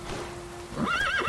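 Horse in The Witcher 3 video game gives a short wavering neigh near the end, following a quieter stretch with a low steady tone, heard alone without talk.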